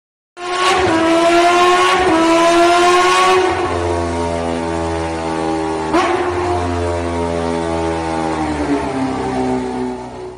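A cartoon motorbike engine revs loudly with a strong buzzing, tonal whine that rises, then settles into a steady drone before a second rev and a sliding fall in pitch.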